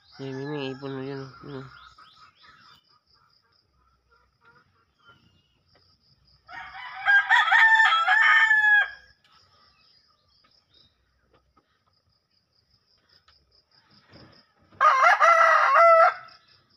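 Roosters crow in three loud, separate bursts spaced several seconds apart, with faint chirping in the quiet gaps.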